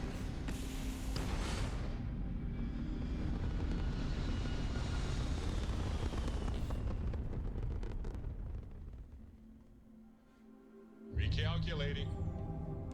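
A spaceship in the video game Starfield lifts off with a loud, broad engine roar that swells and holds for several seconds, fades out, then a sharp new burst of thrust sound kicks in near the end.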